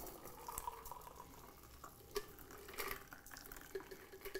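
A cocktail is strained into a coupe glass, with a quiet, continuous trickle of liquid and faint clinks close by in a still room.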